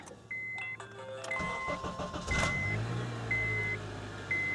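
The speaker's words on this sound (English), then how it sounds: "So now the car's running." A Honda Accord engine cranks and catches after a thermostat housing replacement, then settles into a steady idle hum with faint electronic chimes above it.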